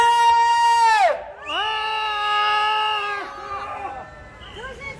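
A crowd at a Daegu Taegukgi rally march lets out loud, sustained shouts and cheers that rise and fall in long swelling waves, with a brief dip before a second big roar.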